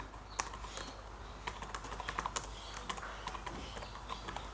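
Steady run of soft clicks from a computer keyboard as code is typed, quiet and close, with an irregular rhythm of light keystrokes and no talking.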